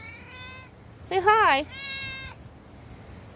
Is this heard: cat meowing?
yes